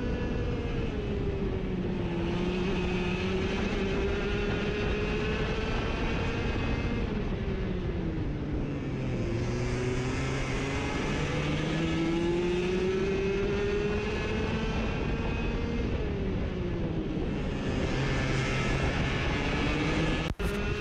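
Mini Rok racing karts scream around the Rowrah circuit, a constant high-revving engine drone rising and falling with the throttle and close, loud, nonstop throughout.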